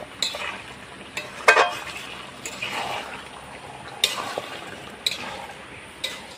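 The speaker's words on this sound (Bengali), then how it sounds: "দই চিকেনটা করার জন্য আমি ভালো করে কষিয়ে নিচ্ছি" Doi chicken being stirred and fried in a pan, with repeated close scraping strokes of the spatula and a bubbling sizzle running beneath them.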